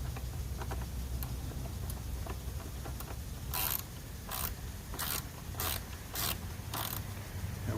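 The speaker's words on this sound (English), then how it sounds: "I'm spinning the nut, not the screw." A nut spun by hand onto a screw gives a series of short bright metallic ratcheting bursts, about six in quick succession after a few seconds of low background hum, close and fairly quiet.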